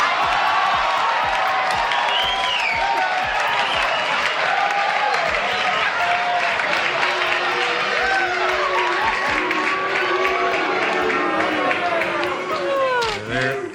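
A large studio audience roars continuously, with overlapping voices chanting a singer's name, clapping and cheering, loud and dense from start to finish.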